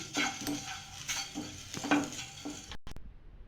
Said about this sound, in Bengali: একটু গোটা জিরে আর একটু মেথি হালকা আঁচে ভেজে নিয়ে আমি গুঁড়ো করে রাখছি